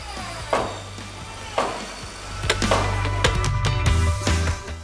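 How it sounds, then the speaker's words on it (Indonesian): Several sharp hammer blows on wood as wooden pegs are made for a traditional pinisi boat in Bulukumba, spaced apart at first and then coming quicker, over a low steady engine-like drone. "kalau Bapak di sini pakai palu untuk bikin pasak"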